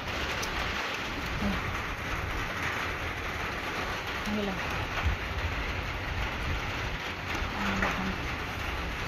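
Steady, dense rain falls continuously, a broad hiss with faint scattered drips and a low rumble underneath.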